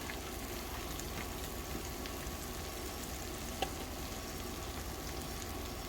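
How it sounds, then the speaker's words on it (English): Potatoes and onions fry on a hot cast iron cooking disk, giving a steady, even sizzle that runs unbroken at moderate level, with one small sharp tick partway through. "get my potatoes and onions in first because it will take them just a hair longer to cook than my sausage"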